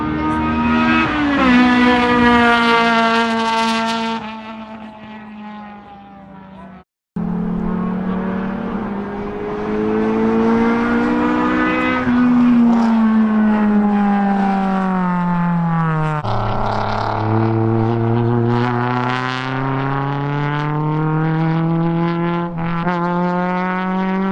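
A loud, close Honda S2000 engine screams on a race track as it climbs through gears, pitch rising and dropping with each shift, briefly cutting out before roaring on again.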